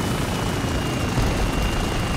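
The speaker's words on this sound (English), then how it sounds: "In a chopper." A helicopter flies in the video game Spec Ops: The Line, producing a loud, dense, continuous rotor-and-engine roar that stays close and steady throughout, with no speech over it.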